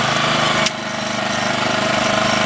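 A self-propelled lawn mower engine runs with a slipping clutch, a loud, close, steady mechanical drone with a brief dip in pitch and level before settling back.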